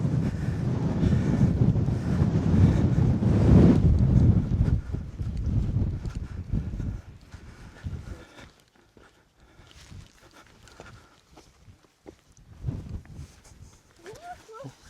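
Wind gusting across an open hilltop above Wistman's Wood on Dartmoor, Devon, roaring loudly against the microphone for the first several seconds and then easing to quieter buffeting, with faint talk in places.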